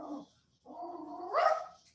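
A dog at close range makes a short, whiny bark, pauses, then gives a longer rising, yowling call that ends in a sharper peak.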